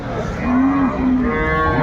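Cow mooing at a rural cattle market in Dinajpur: one long, close, loud moo with a slight rise and fall, heard alone without talk.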